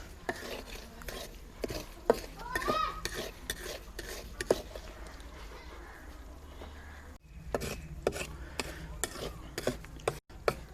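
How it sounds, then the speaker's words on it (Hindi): A spoon stirs semolina as it roasts in a pan over a low flame, giving steady repeated scraping and clinking strokes against the metal with brief pauses, close and clear. "सूजी को हमने हल्की आंच पर भूनना है और साथ चम्मच भी चलाते रहना है ताकि ये नीचे ना लगे"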